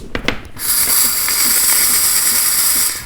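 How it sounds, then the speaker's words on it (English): Steam hisses from the wand of a Delonghi Linea Classic EM450M espresso machine, a wet, sputtering steam flow with water drops; a few clicks come first, then a loud, steady hiss runs on alone for about two and a half seconds. "The steam is very wet with drops of water."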